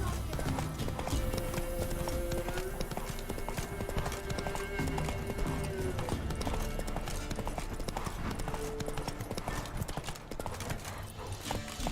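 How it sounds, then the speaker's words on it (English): Horse hooves clip-clop steadily on the ground in The Witcher 3, a continuous rhythmic trot under game music, with a voice talking over it. "Come on, Roach. Whoa there, Roach"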